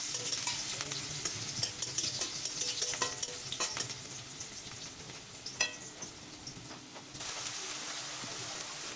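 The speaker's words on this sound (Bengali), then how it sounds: "এবার তার ভিতরে দিয়ে দিলাম মাঝারি সাইজের দুটো পেঁয়াজ কুচি করে।" Two medium chopped onions fry in oil in a wok, making a continuous close sizzle with occasional crackles and stirring scrapes throughout.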